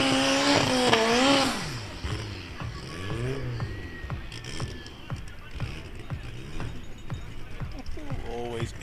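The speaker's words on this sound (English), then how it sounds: "Always epic burnouts." Drag racing car on a track doing a burnout, engine revs swelling and falling in repeated bursts with tire squeal, heard at a distance beneath an announcer's voice throughout.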